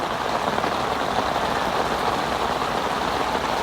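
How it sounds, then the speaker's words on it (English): Heavy rain pours down at a carp fishing lake, a dense, loud, continuous hiss of drops drumming on surfaces with no talking. "it's now absolutely chucking it down"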